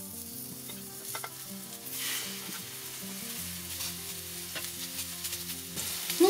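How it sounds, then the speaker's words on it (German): Chicken breast frying in three tablespoons of hot oil in a preheated pan, a loud, steady close sizzle with occasional crackles and stirring, over soft background music. "Ich gebe die 3 Esslöffel Öl in die Pfanne. Die Pfanne ist noch heiß. Dazu gebe ich jetzt einfach direkt die Hähnchenbrust"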